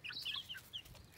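A chicken gives a few quick, high clucks close by, a short burst of chirpy calls against a quiet outdoor background.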